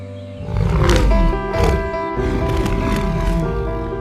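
A cartoonish tiger roars loudly several times in quick succession over a musical backing.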